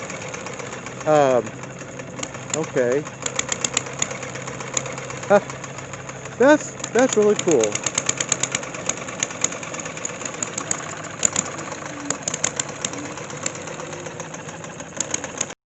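An engine-driven water pump chugs steadily at a tractor show, with a knocking, idling mid-range rhythm running throughout while people talk nearby over it.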